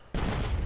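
A sharp burst of gunfire in GTA San Andreas, one loud, abrupt blast that rings out for well under a second.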